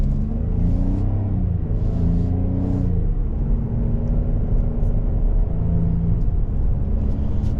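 A 2024 Ford Escape ST-Line with a 1.5 engine accelerates on the road, its low rumbling drone rising in pitch through a couple of shifts, then settling into a steady hum.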